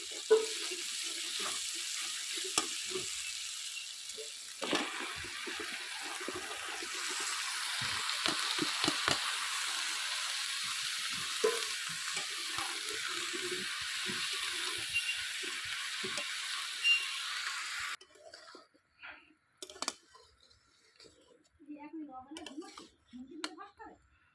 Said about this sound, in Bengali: এবার দিয়ে দেবো ধুয়ে রাখা সবজি